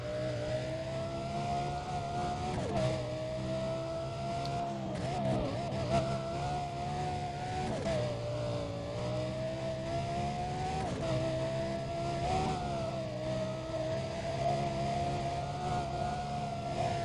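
Lamborghini Gallardo racing engine in the NFS Undercover game, a loud, steady high-revving drone with smooth pitch swells as it shifts and climbs, running continuously for the whole stretch with no talk.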